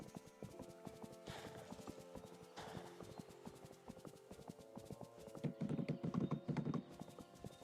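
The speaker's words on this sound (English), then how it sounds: "Giddy up, horsey, giddy up." Horse hooves clip-clopping in the video game Disney Dreamlight Valley, a quick steady trot of light hoof clicks over soft background game music, with a brief whinny-like flourish near the end.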